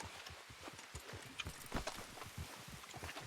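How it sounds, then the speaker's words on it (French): Horses walk along in the video game Red Dead Redemption 2, a quiet, steady patter of hoofbeats at moderate distance with no talking. "Il y a des chevaux."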